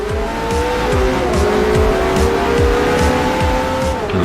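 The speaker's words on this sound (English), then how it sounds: "he's driving a Ferrari 430 GT like I am" A Ferrari 430 GT races in Forza Motorsport 4, its engine droning loud and steady as the revs climb and shift, with tire squeal and skidding mixed in over a continuous, close roar and no talk.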